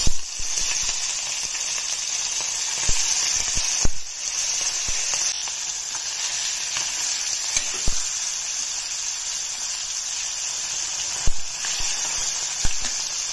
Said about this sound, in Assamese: মাছত অলপ হালধি নিমখ দি ভাজি লওঁ অকমান